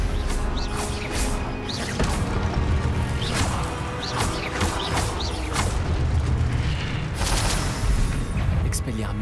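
Stupefy and Expelliarmus spells in Hogwarts Legacy combat sound as repeated sharp zaps and whooshing hits with thuds and crashes, over a constant rumbling bed, while a voice speaks in French.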